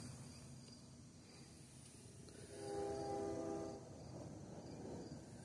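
An eastbound intermodal freight train approaching from a distance, its horn sounding faintly for about a second over low steady rumble and outdoor background.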